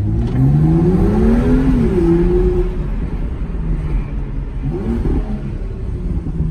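A car engine revs up and holds a loud, rising whine, then eases off and climbs again, heard close from inside the vehicle.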